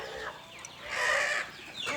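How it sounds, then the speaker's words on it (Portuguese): A rooster on a free-range chicken farm crows once in the middle, a drawn-out strained call rising over faint ambient farm noise, with brief soft calls before and after. "Aquele é um galo que nasceu aqui conosco"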